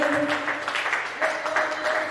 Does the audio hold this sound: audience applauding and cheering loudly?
yes